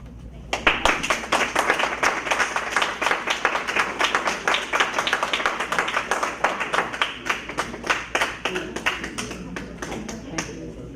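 Audience clapping at a school board meeting, a dense burst of applause that fills the room for the whole stretch and slowly thins toward the end.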